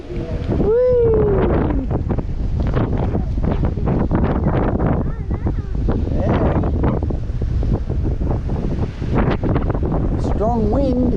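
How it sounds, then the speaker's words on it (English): Strong gusting wind buffets the microphone during an e-bike ride, a loud, steady roar throughout, while people talk and call out now and then over it. "strong wind."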